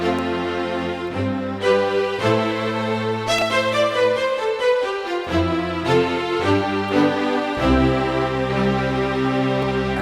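Ketron Event keyboard playing its second voice, a disco strings sound, as sustained chords with a steady bass line and shifting harmonies, loud and continuous with no talking.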